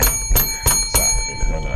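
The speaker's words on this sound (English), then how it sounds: "Give me the bell." A bell rings in several sharp metallic strikes, about four bright rings spaced roughly evenly, followed by fainter taps, heard close and loud in a casual setting.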